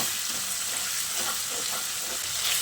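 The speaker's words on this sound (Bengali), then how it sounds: "গরম তেলের মধ্যে ছেড়ে দিচ্ছি। এবার অনবরত নেড়ে চেড়ে মুচমুচে করে ভেজে নেব।" Potatoes for stuffed aloo dum sizzle and crackle in hot oil, stirred continuously to fry crisp, with a steady, close hiss and no talking.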